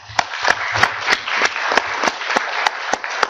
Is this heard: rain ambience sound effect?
no